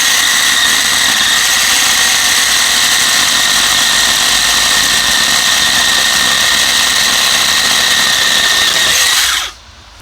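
A Greenworks electric pole saw cuts through a thick branch of nearly 10 cm, a loud steady high-pitched motor whine that holds for several seconds before stopping abruptly.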